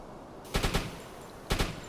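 Machine-gun fire aimed at a merchant ship in the UBOAT submarine game comes as two short bursts, a quick volley of about three rounds and then a pair, each loud and sharp over a dull background hum.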